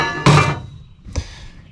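Steel slips off a nut on a Woodmizer sawmill with a loud, close metallic thunk, followed about a second later by a softer second knock and a fading ring.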